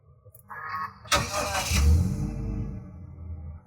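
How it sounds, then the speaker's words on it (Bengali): A brand-new 2020 Toyota Hiace Super GL van starting up: a few quiet clicks, then a sharp crank and catch that settles into a smooth, steady idle, close by. "অ্যাট ফার্স্ট আমি গাড়িটা স্টার্ট করি যেন আপনারা বুঝতে পারেন যে একটা ব্র্যান্ড নিউ টয়টা হাইস গাড়ির ইঞ্জিন কতটা স্মুথ হয়"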